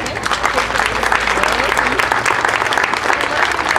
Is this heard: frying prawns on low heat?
no